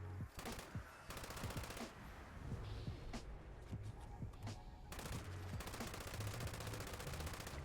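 An LMG light machine gun fires in Fallout 76 in long, rapid sustained bursts separated by short pauses, with dense rattling shots, close and loud.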